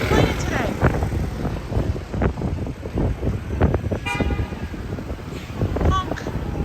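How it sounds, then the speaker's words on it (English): Car horns honk on a windy New York street on the Upper West Side, several toots amid traffic noise and wind buffeting, with a person talking over it. "Honk."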